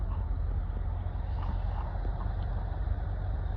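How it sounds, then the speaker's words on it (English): Road work machinery on the street outside drones with a loud, continuous engine rumble, steady and unbroken throughout. "excuse that noise. They're working on the street out front."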